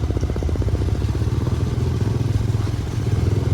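A Bajaj Avenger motorcycle rides along a monsoon route in Nepal. Its engine makes a steady, loud, low pulsing thrum that runs through the whole stretch without a break, and no one speaks.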